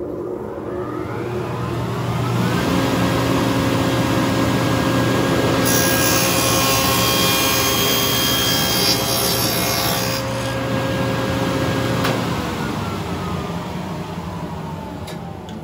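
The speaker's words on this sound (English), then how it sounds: "I'm going to start the saw now," Table saw fitted with a dado blade cutting a flat-bottomed groove in wood: a loud steady whine spins up, then deepens into a harsh rasping cut for several seconds before the blade winds back down, with no talking.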